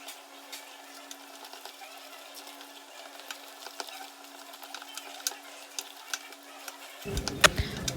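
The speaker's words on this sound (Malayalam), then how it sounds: "നമുക്ക് കുറേശ്ശെ മാവ് ചേർത്ത് ഇതേപോലെ ഒന്ന് നല്ലതുപോലെ ഒന്ന് കുഴച്ചെടുക്കാം" Rice flour dough is stirred and kneaded in a pan over a low flame, giving soft, irregular scraping and tapping over a faint background hum.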